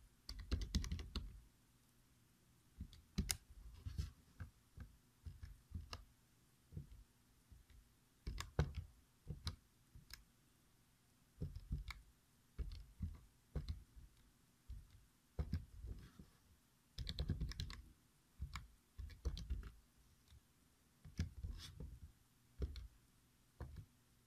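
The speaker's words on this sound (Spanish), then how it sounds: "Resolviendo en la calculadora, poniendo la ecuación en la calculadora" Calculator keys pressed in quick irregular bursts while an equation is entered, soft close plastic clicks with short pauses between runs of presses, no talking.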